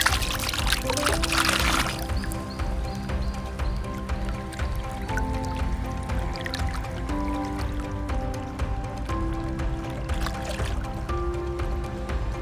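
Water pouring into water bladders at a campsite on a long-distance hike on a rainy morning, a steady continuous stream with splashing and dripping, close by and alone without voices.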